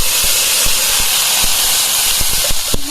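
Cooked brinjal and chana dal hit hot oil with mustard seeds, a loud continuous hiss with sharp popping crackles scattered through it, close and dense, with no voices.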